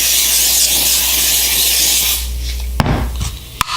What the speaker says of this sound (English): spray it down with a non-stick spray